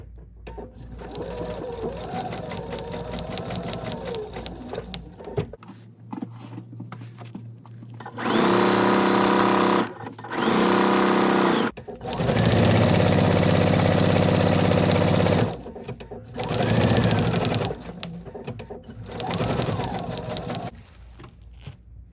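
A sewing machine runs in several bursts, stitching sherpa and faux fur with a fixed stitch and needle stop down at 3.5 length, loud and close, the runs separated by short pauses and soft handling noise.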